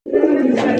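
Indian pigeons cooing at a pigeon farm, a single low, sustained throaty coo heard close and clear, lasting under a second with no talk over it.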